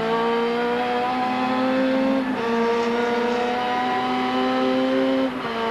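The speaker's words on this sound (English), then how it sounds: "we go inside Glenn Seton's Peter Jackson Sierra, coming up behind John Bowe to the hairpin" Glenn Seton's Peter Jackson Ford Sierra Group A touring car from the 1990 ATCC at Symmons Park, heard from the onboard camera: a loud, steady engine drone with a brief lift around a gear change, then a sustained pull under power.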